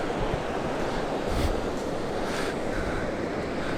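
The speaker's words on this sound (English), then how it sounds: "enjoy this magnificent Pacific Ocean" Pacific Ocean surf at Wurtulla Beach at sunrise, a continuous broad wash of breaking waves with gentle swells in loudness, mixed with some wind buffeting the microphone.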